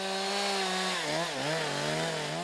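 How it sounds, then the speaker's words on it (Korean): Chainsaw cutting branches off felled trees at a Russian winter logging site, a loud continuous motor whine that dips and recovers in pitch as the blade bites into the wood, heard close and alone. "고요한 이곳에 요란한 톱질 소리만 반복된다"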